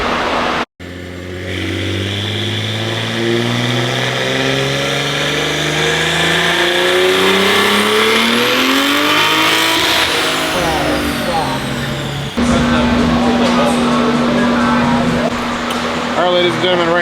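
A tuned BMW M4 running around 50 pounds of boost screams through a dyno pull, its loud engine note sweeping upward steadily, cutting briefly, then droning on at high revs, with a voice talking over it.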